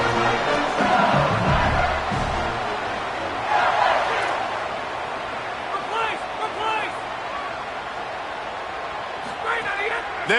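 A stadium crowd at an LSU versus Louisiana Tech football game roars and yells in a continuous wash of noise, with surges of louder screaming throughout and a commentator speaking over it.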